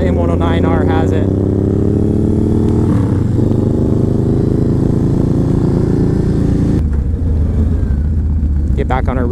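A Yamaha Raider and a Suzuki M109R Boulevard, 1900 and 1800 cc V-twin muscle bikes, accelerating: a loud, deep engine drone rising steadily in pitch through the gears, with a brief dip midway and someone talking over it.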